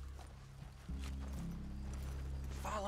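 Horse hooves clip-clop in a steady walking rhythm in the video game Red Dead Redemption 2, low and near over a droning game ambience, with a brief whinny-like sound at the end.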